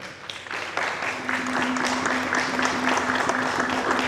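An audience claps steadily at an anniversary gathering of a Congolese political programme, the applause building and continuing with a low steady hum beneath it.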